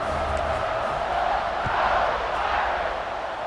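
A stadium crowd roars and cheers during a college football video game matchup between Notre Dame and SMU, a broad, sustained wash of voices swelling slightly midway, distant and continuous with no distinct speech.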